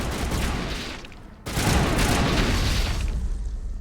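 Angry bugs explode in a run-down place in Mass Effect Legendary Edition, giving a dense, noisy burst of blasts, a brief sharp cutoff, then a louder sustained rumbling roar.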